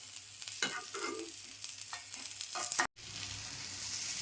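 Tomatoes, green chillies and garlic roast in a hot pan with a close, steady sizzle and occasional stirring scrapes, broken by a brief cut to silence before the frying hiss resumes.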